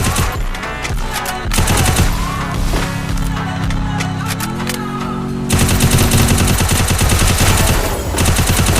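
Gunfire rattles in a battle royale shooter game, with dense bursts of automatic fire and sharp cracks layered over continuous game noise, growing denser and louder in the second half.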